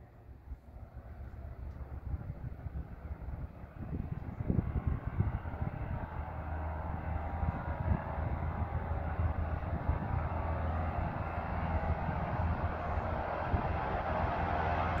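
Engine of a loaded 450 horsepower Ag Cat crop-duster airplane, a broad continuous roar that builds gradually from moderate to louder and holds steady, heard from a distance outdoors, no talking.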